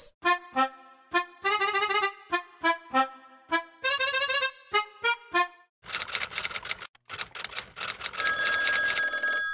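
An old-style telephone bell rings in a series of sharp, bright bursts with short gaps, followed by a denser jangling ring, close and loud with no talk over it.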